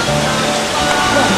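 Gitgit waterfall in Bali roaring steadily, a dense, continuous rush of falling water close by with no pauses.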